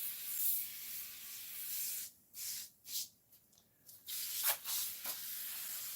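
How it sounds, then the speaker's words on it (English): Bathroom cleaner sprayed from a trigger bottle onto a very dirty, high-mileage rollback truck seat: several short, close hissing spray bursts with brief pauses between them, no talking. "spray a little bathroom cleaner on there"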